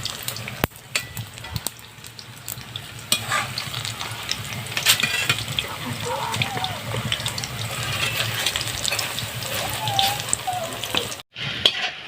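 Pakora fries in hot oil, with a bubbling sizzle and scattered crackles running throughout, joined by brief watery splashes and faint voices in the background.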